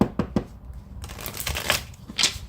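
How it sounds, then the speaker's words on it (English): Tarot cards being shuffled by hand, a series of quick riffling and slapping bursts at close range, uneven in rhythm, with no talk over them. "Let me shuffle so that we get"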